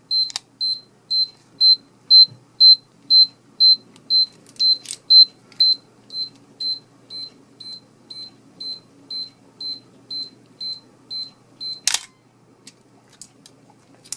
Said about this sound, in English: The self-timer does this.